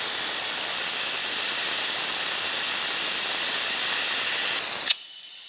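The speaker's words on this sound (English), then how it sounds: "we're going to move this along and use a vacuum bleeder" Vacuum bleeder hissing steadily while drawing fluid through the rear brake bleeder valve of a Honda CRF450R, a continuous loud airy rush that cuts off abruptly near the end.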